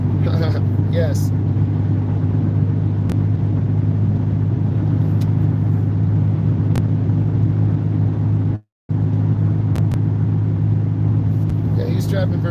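Car driving on a highway at about 70 to 75 mph, a steady low road and engine rumble heard from inside the cabin, continuous apart from one brief cut, with faint talk.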